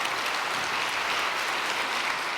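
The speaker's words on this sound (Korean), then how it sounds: "참부모님께 박수를 올려드리겠습니다." A congregation at a spiritual training gathering claps in a dense, even burst of applause that stays at a constant moderate volume without any talking.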